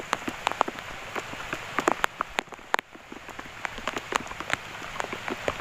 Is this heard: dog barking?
no